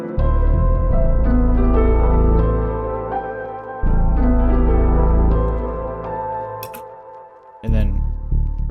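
Trap soul beat: a sustained piano chord over deep sub bass that steps through a moving line, dropping out briefly and returning, with light hi-hat ticks near the end.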